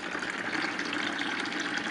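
Aquarium water rushes steadily through a siphon hose as it drains from the tank, a continuous close gurgling flow with no pauses.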